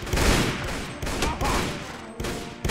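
Gunfire in a World War II battle in the Mount & Blade Red Wars mod: loud bursts of overlapping shots and volleys crack in quick succession, with brief gaps between them.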